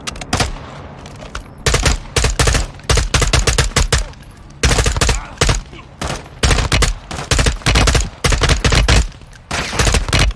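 Rapid gunfire in Call of Duty Modern Warfare II, loud bursts of automatic fire in repeated volleys with brief pauses between them, close and dominant throughout.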